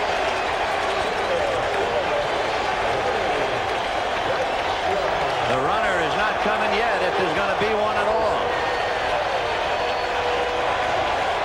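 Stadium crowd at a Mets home game during the 1986 World Series Game 6 against the Red Sox, a steady roaring cheer filling the whole stretch beneath a play-by-play announcer's voice.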